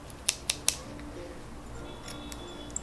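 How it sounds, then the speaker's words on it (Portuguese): Scissors cut through trouser fabric with three quick, sharp snips close by, followed by a quiet pause and a couple of faint later clicks. "Agora eu vou cortar aqui essa parte aqui onde fica o dedo e também vou encurtar um pouco minha calça"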